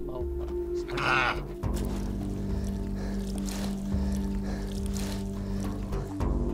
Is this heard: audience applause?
no